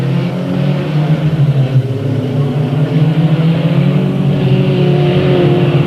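Stock cars race at Delta Speedway with several engines roaring together at close range, a loud, continuous, throbbing drone that holds throughout without any talk.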